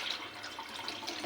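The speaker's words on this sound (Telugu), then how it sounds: "వాటర్ కూడా వేసుకోవాలండి." Water is poured into a fish curry mixture, a steady, close, continuous splash and gurgle lasting the whole short moment without pause.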